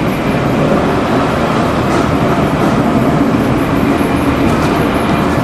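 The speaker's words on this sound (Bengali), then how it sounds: "আমাদের ট্রেন এখন প্রবেশ করতেছে দৌলতপুর রেলওয়ে স্টেশনে" A passenger train on the Khulna to Jessore line rolls into Daulatpur railway station, its steady, loud rumble of wheels and carriages filling the scene close by without pause.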